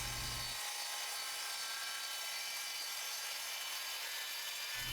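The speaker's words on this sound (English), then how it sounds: "to cut the aluminum, I'm just using a chop saw with a standard wood cutting blade that I lubricate with beeswax" Chop saw fitted with a standard wood-cutting blade lubricated with beeswax, cutting through aluminum: a loud, continuous high-pitched whine and grind lasting several seconds, close by.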